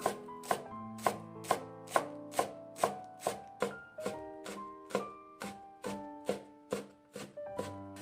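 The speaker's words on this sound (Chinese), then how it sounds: "准备一把韭菜，提前洗干净，给它切成韭菜末" A knife chops a bunch of washed chives into fine bits on a cutting board, a steady series of crisp, evenly spaced cuts, close and alone, with the strokes quickening toward the end.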